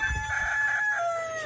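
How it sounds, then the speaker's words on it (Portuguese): A rooster crows from up on a roof, one long drawn-out crow lasting about a second and a half, loud and clear with faint background noise. "o Neve tá sensacional cantando em cima do telhado"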